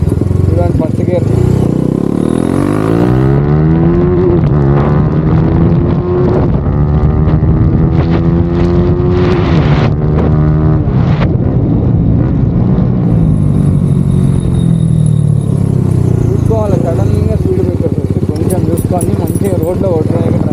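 A modified TVS Apache RR310 motorcycle pulls away in first gear: a loud, close engine climbs steeply in pitch, holds a high rev, then drops and settles back into a rumbling idle amid wind buffeting.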